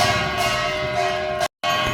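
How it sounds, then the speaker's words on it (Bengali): Temple bell rung steadily during puja at a Loknath Baba temple across from a home, a continuous ringing tone with a brief silent gap near the end, heard alone without speech. "মন্দিরে ঘন্টা বাজছে, এখন পুজো হচ্ছে মন্দিরে"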